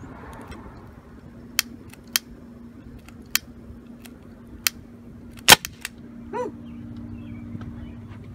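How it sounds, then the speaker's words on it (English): A small gas explosion from an electrolysis cell prototype outdoors, heard as one sharp loud bang after several lighter isolated clicks, followed by a brief whoop-like tonal sound, over a steady low hum and wind. "Time for the explosion."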